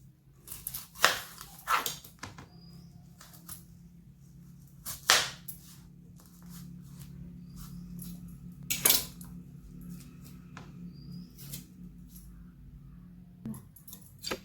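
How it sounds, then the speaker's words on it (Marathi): A kitchen knife chops an onion on a board for a stuffed capsicum dish, with a handful of sharp, widely spaced cutting knocks over a low steady hum, close and otherwise quiet. "आपण आता कांदा चिरत आहोत"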